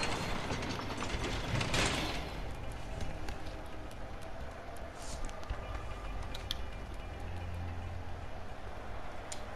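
Rapid mechanical ratcheting of a wrench in the video game A Way Out, a dense run of clicks that goes on steadily throughout, close and fairly loud, with no talk.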